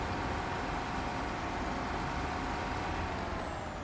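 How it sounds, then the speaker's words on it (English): Loud, steady engine drone from a truck in a truck-driving video game, noted as noisy, rumbling continuously and unchanging, with a faint high whine across the top and no talk. "Too bad the H is so noisy on this truck."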